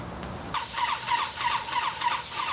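Paint sprayer blasting onto a stucco house wall, starting abruptly after a brief quiet moment and holding as a loud, steady, close hiss with a short dip near the end.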